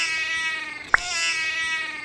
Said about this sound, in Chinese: 真的猫咪生气了